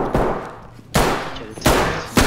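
Gunfire in the tactical shooter Ready or Not: four sharp, loud shots at uneven intervals, each trailing off into a short decay, with no speech.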